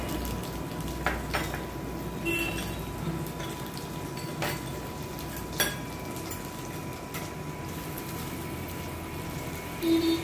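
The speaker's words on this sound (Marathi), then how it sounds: "त्या तेलामध्ये कांदे तळून घेते" Onions fry in oil in a pan for paneer Hyderabadi, a faint steady sizzle with a few light clinks of a utensil against the pan, no voices.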